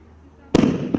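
A 50 mm, 19-shot fireworks cake launcher goes off after a quiet lead-in: a sudden loud blast, then a rumbling burst and a second thump close behind it, all near and powerful.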